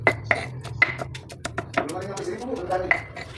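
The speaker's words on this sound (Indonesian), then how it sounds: "Setelah itu masukkan tempe yang sudah kita goreng. Langsung digeprek aja, jangan terlalu halus ya." Fried tempeh pounded in a mortar, with sharp irregular knocks and clinks of the pestle striking close by, mixed with a person talking.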